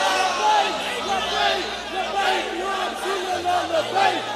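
A crowd at a religious Mawlid gathering chants slogans in loud, rhythmic unison, with repeated shouted phrases rising and falling over a steady beat.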